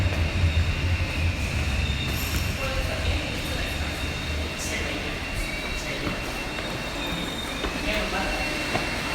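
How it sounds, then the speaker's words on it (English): A train stands at an Osaka station platform, its steady loud rumble and rolling hum filling the space, with brief metallic squeals and clicks over a constant low drone. "Actually, the train's right here,"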